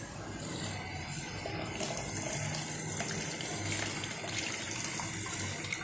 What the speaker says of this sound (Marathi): आता आपण काढून घेऊया ते पाणी.